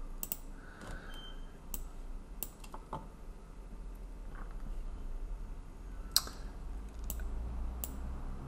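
Mouse clicks in trading software on a computer, faint and scattered sharp taps over low background hum, no speech.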